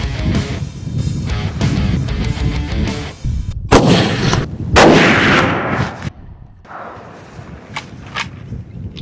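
A single sharp rifle shot at a Barbary sheep cracks out amid outdoor noise, followed by its echo and quieter rustling and faint movement.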